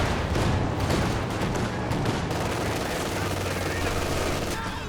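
Grenadiers open sustained rifle fire in a real-time strategy game battle, a dense rapid crackle of overlapping gunshots with low rumbling booms underneath, loud and continuous throughout.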